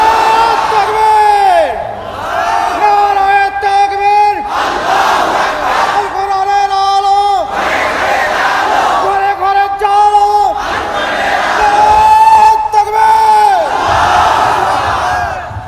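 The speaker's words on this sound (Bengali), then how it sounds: "একটু জোরে তাকবীর বলেন তো।" A large crowd roars the takbir, Allahu Akbar, in repeated long sustained chants at a religious sermon gathering, loud and close, with a preacher's voice leading between the massed shouts.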